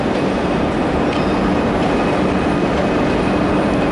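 A locomotive hauls a Swan Hill N set train past at close range, making a loud, constant rumbling roar of wheels and engine with faint clicks from the rails throughout.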